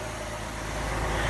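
A 1962 Ford Falcon inline engine idling smoothly after its first start in 17 years, a steady low rumble with even, continuous tone and no voices.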